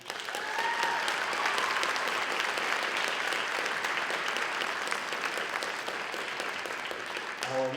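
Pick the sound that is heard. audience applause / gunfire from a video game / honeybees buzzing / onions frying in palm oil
audience applause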